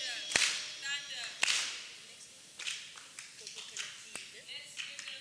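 Audience at a children's summit closing ceremony doing a thunder clap: a few loud, sharp, isolated claps spaced apart, with chatter and shouts from the crowd between them.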